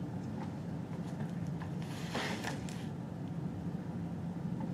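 A drain in a lecture room gives off a brief, eerie creaking gurgle that swells for about a second midway, rising over a steady low hum of room noise, with no talking.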